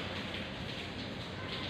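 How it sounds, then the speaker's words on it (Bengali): Rain pours steadily outside while khichuri simmers in a home kitchen, a dense, even hiss with no pauses, with no other sounds over it. "দেখো বৃষ্টি হচ্ছে, দেখছো?"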